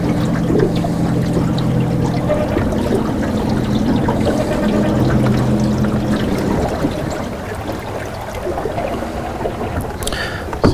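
Steady broadband wash of moving water and splashing as someone wades across Fall Creek on a fishing outing, continuous and close for most of the clip, easing slightly toward the end, with no talk.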